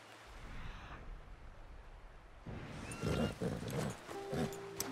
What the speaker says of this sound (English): Your horse is agitated by a predator.